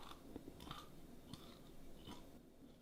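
A dog named Cloud crunching crispy beef chicharrones, a handful of separate close bites and chews spaced irregularly over a quiet background, with no talking.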